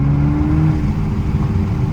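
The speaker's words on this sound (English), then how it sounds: "I'll never get over the sound of that turbo" Turbocharged 2.0-litre four-cylinder Toyota Supra engine revving, a steady, close, full-bodied engine drone holding for two seconds with no talk over it.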